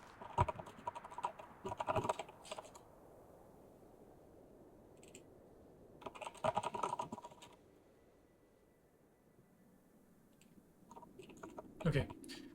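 Computer keyboard typing comes in bursts of rapid clattering keystrokes, picked up close by a microphone sitting just above the keys, with quiet gaps between and a faint voice at times.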